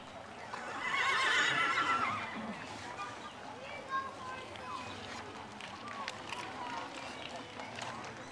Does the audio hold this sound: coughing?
no